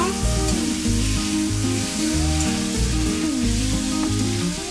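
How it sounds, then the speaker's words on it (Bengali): Fish head and cabbage fry with ginger and chili paste in a pan, giving a steady hissing sizzle that sits under loud melodic background music throughout. "দিয়ে দেবো আদা বাটা দিয়ে দেবো লঙ্কা বাটা এবার নেড়ে চেড়ে নেব"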